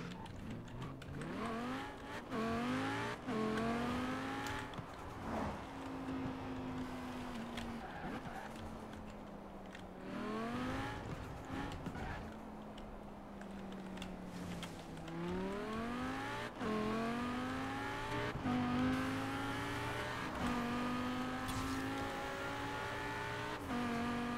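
An Audi RS7 Sportback in Forza Horizon 4, driven on a winter road, gives a continuous engine drone that repeatedly climbs in pitch through gear changes, loud and steady throughout.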